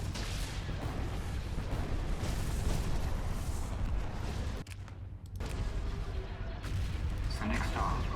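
Mega Maser cannon fire in the Star Wars space-strategy mod Thrawn's Revenge, a sustained roaring barrage with heavy low rumble, briefly cutting out before resuming as continuous blasts, with speech heard partway through.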